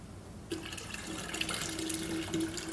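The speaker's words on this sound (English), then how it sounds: "let's put a little bit more cold water in there." Cold water pours steadily from a tap into a small glass pot, a continuous close rushing splash with a rising filling tone, starting suddenly and running alone.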